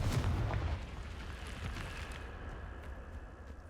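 Confringo blasting spell explosion in Hogwarts Legacy, one loud deep boom at the start that rolls off into a long fading rumble and debris hiss.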